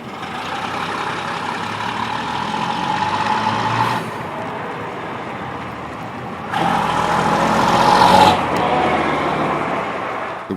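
Vintage bus pulling away loaded with passengers on the Heritage Motor Centre site during a bus festival, a steady engine drone rising and swelling as it moves off, fairly close and continuous with no talk.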